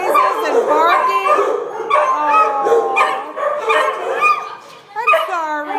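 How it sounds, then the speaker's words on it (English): Several dogs in an animal shelter yelp, howl and whimper over one another in a constant, loud, echoing chorus, with brief rising cries near the end. "All these noises and barking."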